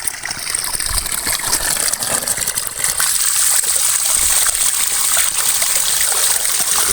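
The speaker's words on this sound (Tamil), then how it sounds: "வாங்க நம்ம காயை அலசி எடுத்துக்குவோம்" Freshly picked ivy gourds rinsed in water, a loud, close, continuous gushing and splashing with steady trickling, alone and without talk.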